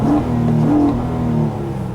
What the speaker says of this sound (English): we'll go ahead and rev the engine with the window up